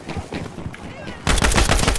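Gunfire in Battlefield 5 during a Breakthrough match on the Twisted Steel map erupts into loud, close, rapid bursts after a quieter stretch of distant battle noise.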